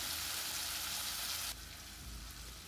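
Turmeric and chili powder being stirred into a hot frying pan with tomato, giving a steady close sizzle that drops slightly in level partway through as the spices are mixed in.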